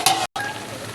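Spinach and large prawns frying in a pan, a crisp close sizzle with a brief stirring scrape at the start and a short gap.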